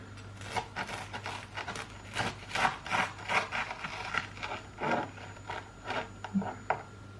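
Knife sawing through a cheesy American dish, a series of rhythmic, crunchy rasping strokes, close and distinct, each stroke a short scraping burst.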